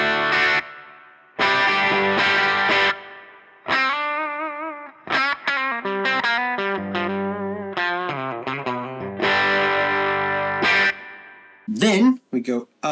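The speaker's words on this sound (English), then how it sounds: "Where the reverb really starts to kick in is when you get to about that midnight point. That's where we hear more of a kind of a long form tail." Electric guitar chords and single-note runs through a budget valve amp with its reverb set at the midnight point, each phrase trailing off in a long, washy tail, loud and close.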